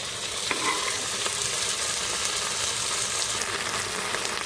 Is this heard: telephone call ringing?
no